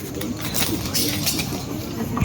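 A sick, weak pigeon gives low, soft coos close by, amid light background noise and intermittent bird sounds.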